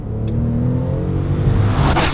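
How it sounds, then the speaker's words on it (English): A 2015 Bentley Continental GT Speed engine revs hard and close, a loud sustained rumbling growl that builds steadily over about two seconds with no talk over it. "this is the Bentley Continental GT Speed"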